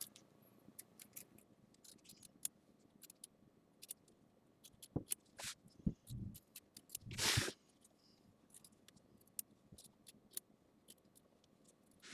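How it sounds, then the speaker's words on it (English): Fine scissors trimming threads on a Santa's Workshop quilt block, scattered small clicks and snips spread across a quiet room, with a few soft rustles and one louder brief scrape near the middle. "I'm going to have to get in there with some very fine scissors"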